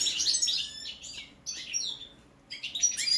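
Goldfinch (Carduelis balcanica) singing nearby in three bursts of bright, twittering song and sharp chirps, separated by short pauses, alone with no talk.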